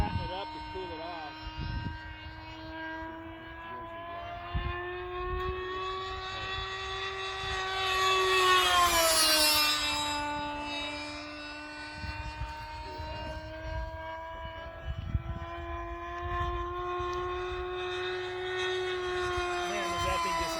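RC F21 Kfir model jet flying wide open at full throttle, a steady high engine whine that swells and peaks as it passes close overhead, then fades back to a distant drone.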